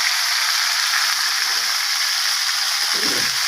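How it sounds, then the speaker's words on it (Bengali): Green chillies fry in hot oil for a fish curry, giving a steady, loud, continuous sizzle with no talking. "তেলের মধ্যে কাঁচা লঙ্কাটাকে ভেজে নিচ্ছি।"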